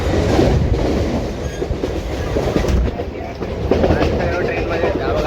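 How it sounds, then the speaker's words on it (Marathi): A local train rolls in toward Virar, loud and close, with a continuous rumble and rhythmic clickety-clack of wheels over rail joints, crowd noise and voices mixed underneath. "थोड्या वेळी ट्रेन आता बघा."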